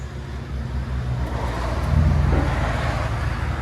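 A Ford F-150 pickup with a 5.4L or 5.0L engine drives nearby, its low engine rumble swelling slightly as it passes, with no talking.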